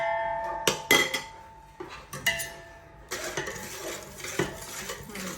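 A spoon clinks and scrapes around a bowl, stirring eggless teacake batter made with curd in place of egg, in close, irregular strokes with sharp metallic taps and no talking.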